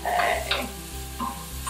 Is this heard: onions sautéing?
yes